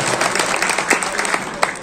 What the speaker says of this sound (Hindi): आपसे चाहूंगा जोरदार तालियों से इनका हार्दिक अभिनंदन करें